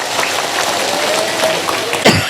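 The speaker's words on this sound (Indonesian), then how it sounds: "Tepuk tangan untuk pondok pesantren." An audience at an Islamic sermon claps in a dense, steady patter for a couple of seconds, with a cough near the end.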